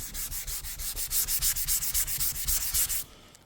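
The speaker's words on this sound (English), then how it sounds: "after block sanding it and sanding on it for a little while" Rapid back-and-forth strokes of a sanding block rubbing across the hood of a 1991 Pontiac Firebird, a steady rhythmic scratching close by that stops near the end.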